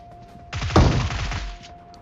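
A single burst of gunfire from the mobile battle-royale game PUBG Mobile: a sharp loud crack followed by a brief rattling decay, with faint background hum and no speech.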